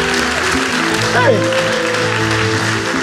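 A church congregation applauds at a midday service, a broad, steady wash of clapping filling the room while a voice shouts out over it.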